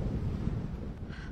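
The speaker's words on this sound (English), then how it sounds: "Well, Virginia, it is windy out here. You can hear it." Strong dry wind during a red flag warning in Alpine roars and buffets the microphone, a loud continuous low rumble throughout.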